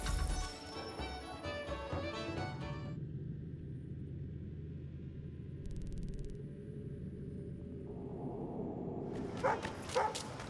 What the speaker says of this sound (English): God-forsaken dog!